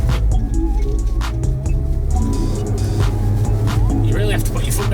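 BMW 1 Series car accelerating hard through the lower gears, a loud steady engine drone from the cabin, with people talking over it.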